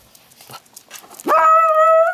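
Ten-week-old miniature pocket beagle puppies play, with faint scuffling and small yips before one puppy lets out a loud, drawn-out whining howl close by.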